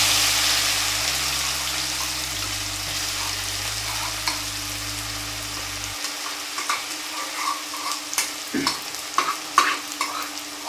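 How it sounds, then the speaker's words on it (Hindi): Finely chopped onions frying in oil with cumin seeds, a loud, broad sizzle that settles into steady crackling, with a spoon stirring and scraping the pan in short, irregular strokes close by. "बिल्कुल बारीक कटी हुई प्याज डाल दिए और प्याज को चला लेते हैं।"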